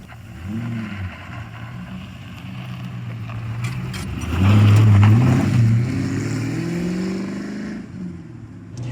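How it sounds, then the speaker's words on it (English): A deep V8 engine in a Ford Falcon XR8 ute rumbles as it drives off, swelling into a louder revving surge midway before settling back to a throaty cruise. "That V8 engine sounds glorious."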